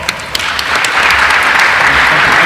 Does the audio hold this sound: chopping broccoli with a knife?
no